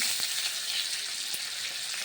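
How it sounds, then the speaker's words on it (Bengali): Steady crackling sizzle of frying in hot oil, continuous and close, with a few sharper pops along the way. "এবার আমি কড়াইতে দিয়ে দেব কয়েকটা ছেঁড়া কাঁচা লঙ্কা"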